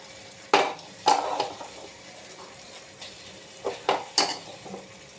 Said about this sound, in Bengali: এবার ম্যাশড করা আলুগুলো দিয়ে দেব।